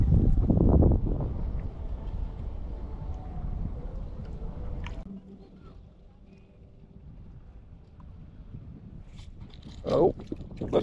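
Gusty wind buffets the microphone while someone fishes for bluegill from a boat, a steady low rumble that eases midway, with brief talk near the end.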